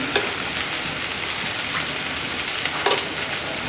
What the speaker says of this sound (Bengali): মিডিয়াম হাই হিটে ভেন্ডিগুলো ভেজে নেব